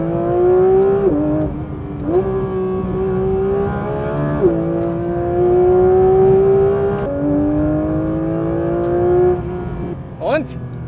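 Porsche sports car driving on scenic roads, engine revving through several upshifts with rising and falling pitch, heard loud from inside the cabin, with voices briefly talking.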